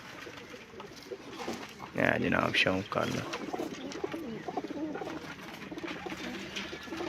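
Pigeons coo softly in the background while someone speaks over them, with a louder burst of cooing and fluttering near the middle.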